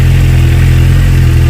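A Suzuki GSX-S750 motorcycle engine runs close by, a loud, steady idle-like drone that holds unbroken for its brief length with no one talking.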